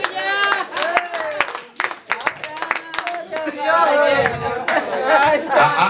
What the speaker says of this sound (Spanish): Le damos un aplauso a Cristo por eso.